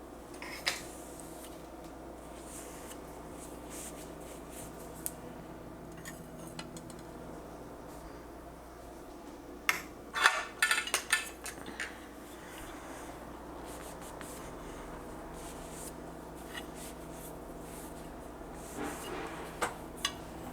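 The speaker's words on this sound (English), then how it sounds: "I'm going to grab the knives that belong to this knife set and dry them and put them" Kitchen knives from a matching set are wiped dry and put away, making quiet rubbing and soft metallic scrapes with a brief cluster of clinks midway, close and gentle against a low hum.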